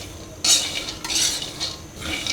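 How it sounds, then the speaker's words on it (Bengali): Nuts fry in a pan on a gas stove as a metal utensil scrapes and clinks against the pan in several quick strokes over a faint sizzle, with no talking. "আর এক চুলায় বাদাম ভেজে নিচ্ছি"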